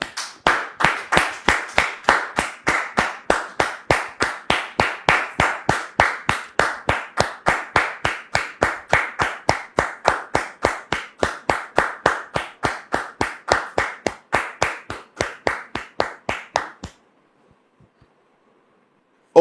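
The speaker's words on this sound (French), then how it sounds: "Sous vos applaudissements, s'il vous plaît." Steady, evenly spaced clapping, likely from a single person, welcomes a guest on a French-language talk show, loud and regular for about seventeen seconds before stopping abruptly, with no talk.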